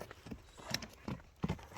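A blue-grey horse for sale, a few irregular hoof clops at close range on hard ground, about four soft thuds over two seconds with no talk.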